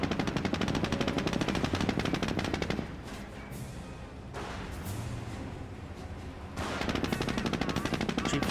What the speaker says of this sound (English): Jeep firing away.